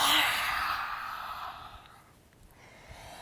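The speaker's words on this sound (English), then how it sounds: "And then exhale, stick your tongue out" A forceful yoga breath, exhaled with the tongue out, gives a loud breathy rush that starts strong and fades over about a second and a half, leaving quiet afterward.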